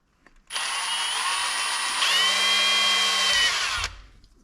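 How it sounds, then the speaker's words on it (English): A close, loud power drill spins up and bores through the bottom piece of a Bronco 6G Black Diamond handle. The steady high whine runs about three seconds, its pitch shifts midway as the bit bites, then stops abruptly. "Drill your holes out"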